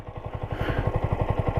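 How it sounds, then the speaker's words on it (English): Motorcycle idling on its stock exhaust, a close, even chugging pulse of rapid low thumps with a slight clatter, steady and alone. "So I got my stock exhaust back on."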